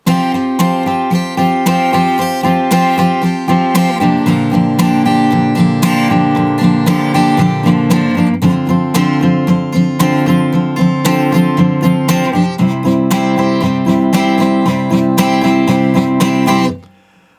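A guitar strums the chorus chords, playing steady, loud strummed patterns with a chord change about every four seconds, up close and alone, before the final chord is cut off.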